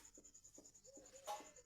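Faint, close strokes of writing on a board or paper during a physics lesson, a few quick scratchy marks with a slightly louder stroke near the end.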